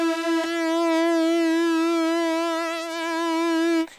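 Polymoog synthesizer tone with its oscillators locked together, sharing one sawtooth frequency modulation, producing a steady sustained pitch that wavers in a slow regular vibrato, held alone for about four seconds.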